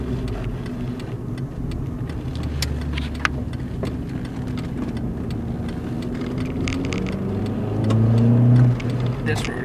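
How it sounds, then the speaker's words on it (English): A car on new tires accelerates sportily on a road, with engine and road noise building to a louder surge near the end, while a voice talks over it. "after that sporty acceleration, I'm now continuing on 50."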